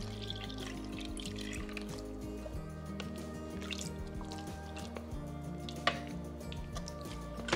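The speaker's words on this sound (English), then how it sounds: "Now let's pour our 1/2 and 1/2 into the pot." Half and half poured into a pot, a soft continuous liquid trickle with light drips and splashes, steady at moderate level through the whole stretch with kitchen hum beneath.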